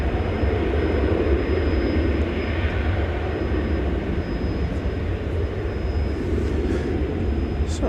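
A 1999 Boeing 777-200ER jet airliner at DFW Airport after dark makes a loud, steady engine roar that holds for the whole stretch, with no talk over it.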